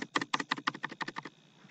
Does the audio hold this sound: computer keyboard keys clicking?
yes